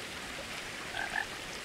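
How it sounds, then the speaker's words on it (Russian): A toad croaks a couple of times in the video game What Remains of Edith Finch, short and fairly faint against a steady hiss of outdoor ambience. "Я слышу где-то жабу,"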